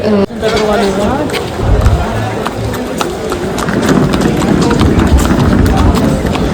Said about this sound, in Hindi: भाई घोड़े आ गए हैं दर्शन दिला के